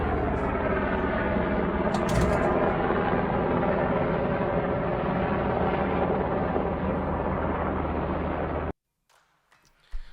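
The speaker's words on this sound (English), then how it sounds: "I think it's just a helicopter's flight path that you may be part of." A loud, steady helicopter engine drone with rotor throb as it flies overhead, holding for about nine seconds, then cutting out abruptly to near silence with a few faint knocks.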